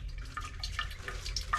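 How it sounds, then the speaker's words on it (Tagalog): Water drips from a roof leak in a storm-battered house, several small faint drips scattered irregularly over a low steady background rumble, with no talking. "Tumutulo dyan."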